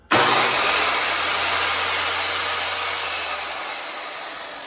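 A Mafell PSS 3100 automatic portable panel track saw runs at its slow speed setting of 4, a loud steady motor whine with a rising high tone that holds for several seconds, then eases slightly as the cut continues.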